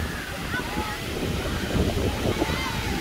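Strong gusting wind at a seaside hotel in Makadi Bay, Hurghada, Egypt, blustering steadily across the microphone with a deep rumble and buffeting. A voice talks over it.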